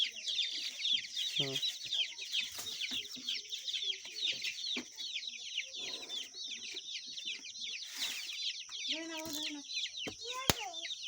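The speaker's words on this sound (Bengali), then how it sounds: "এখন মুরগিরে খেতে দিচ্ছি।" A flock of farm chickens clucks and chatters continuously at feeding time in the morning, with scattered louder squawks and a brief murmured voice.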